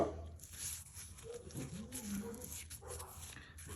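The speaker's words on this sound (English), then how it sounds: "there go the dogs" Dogs barking in the background of a home garage during a Toyota thermostat replacement, a few muffled yips and whimpering barks set back from the microphone over low room noise.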